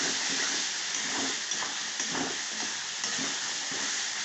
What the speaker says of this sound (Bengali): পেস্টটা দিয়ে আমি একটু ভাজবো।